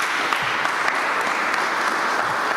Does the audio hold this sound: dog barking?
no